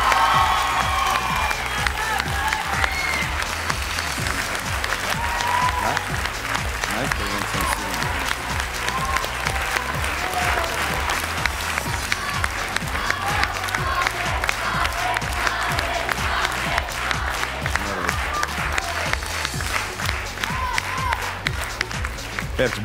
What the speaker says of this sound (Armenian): Վերջ բարձր ծափարություններով ճանապարհում ենք Մանեին Ապրես Մանեջան։